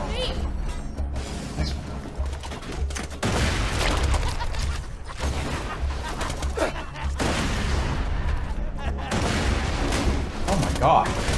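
Sustained gunfire and explosions in the Borderlands 2 video game, a dense, loud, continuous barrage with short surges, while a player talks excitedly over it.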